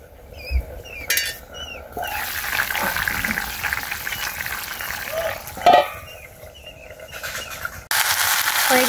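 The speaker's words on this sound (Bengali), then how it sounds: "মাটির চুলায় দেশি কচুরলতি রান্না করতেছি।" Taro stolons cook in a pot on a clay stove, with a soft sizzle and bubbling under scattered clinks of a utensil against the pot, plus a few distant bird calls and bits of background speech.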